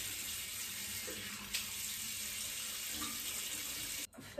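Tap water runs steadily into a sink at close range to wet hair before a home haircut, a continuous broadband hiss with a brief break near the end.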